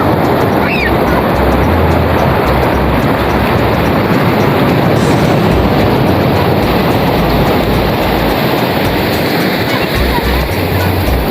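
Ocean waves wash onto a beach at San Roque, Lingig, Surigao del Sur, a loud continuous surf roar with wind rumble and faint voices of bathers in the mix.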